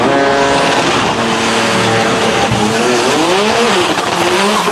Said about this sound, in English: Off the starting line good, and then a little bit of a bobble, and Stacy will coast down the racetrack.